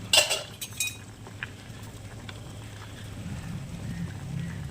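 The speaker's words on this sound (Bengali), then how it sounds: "এবারে ঢাকনাটা তুলে দেখে নেব" A metal lid comes off a cooking pot of boiling tomatoes with a quick cluster of close clinks and rattles, followed by a low, steady bubbling rumble from the simmering water.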